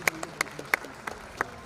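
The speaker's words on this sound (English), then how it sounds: "Give it a round of applause." Sparse, scattered clapping from a small crowd at an all-star high school football game, a handful of separate claps spaced irregularly, fairly faint and hollow.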